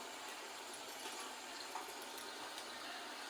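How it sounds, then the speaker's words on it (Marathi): Water added to a simmering pot of homemade red-green rassa curry, a steady, fairly faint rushing pour that holds level the whole time. "पाणी ठेवू वरती आपण त्याच्यात."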